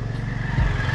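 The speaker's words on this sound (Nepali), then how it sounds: "यो बाइक गुडिरहेको थियो" A motorcycle rides along a hill road near Sankhu, Kathmandu, its mid-pitched engine droning steadily and close with a brief low thump partway through.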